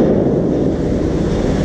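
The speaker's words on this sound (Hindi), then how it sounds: "पानी का साउंड सुनाई दे रहा होगा" Loud, steady rush of water roaring continuously at the Ranganadi Dam in Arunachal Pradesh, dense and close, with a windy buffeting quality and no voices.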